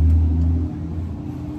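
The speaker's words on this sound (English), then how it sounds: "It's like 5, so traffic is crazy right now." Busy road traffic at rush hour, heard through open windows: a steady, loud low rumble of passing car engines fills the whole moment without a break.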